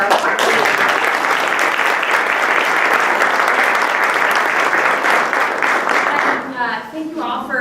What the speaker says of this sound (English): we can have one more round of applause for our